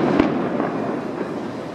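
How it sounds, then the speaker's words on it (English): A single sharp cannon-like blast booms in Taxco, Mexico, a brief loud report followed by rumbling echo and steady outdoor noise. "There's cannons going off."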